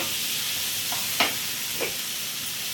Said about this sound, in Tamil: தக்காளி வெங்காயம் நல்லா வதங்கணும்.